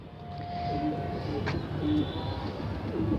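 Desi pigeons coo softly in a steady low murmur, with faint background noise throughout the short stretch.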